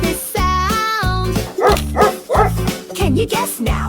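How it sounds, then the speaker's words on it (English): A dog barks repeatedly in a rhythmic series of close, loud woofs, mixed with music and a voice that sings along between the barks. "It's a dog says woof."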